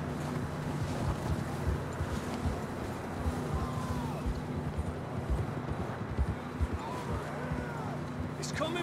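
Horses walking over rough ground in the Red Dead Redemption 2 video game, their hooves clip-clopping in an uneven rhythm under steady wind noise and ambient in-game sound.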